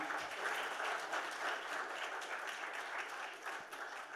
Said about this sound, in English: So a big round of applause while he's not in the room.